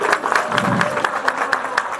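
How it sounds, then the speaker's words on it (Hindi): Crowd applause at a large Chhath Puja gathering in West Delhi, a brief burst of rapid clapping from many people, moderately loud and close. "एक बार जोरदार ताली बजाइए।"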